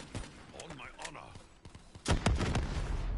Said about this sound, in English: Why are you playing with the rocket launcher?